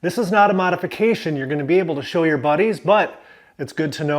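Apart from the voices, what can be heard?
No everyday noise stands out behind the speech.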